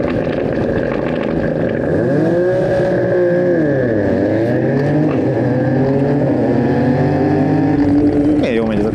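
Rally car engine, a Suzuki Swift GTI or a Ford Fiesta Rally3, revving and shifting up and down in pitch as it drives hard, loud and close with a continuous roar.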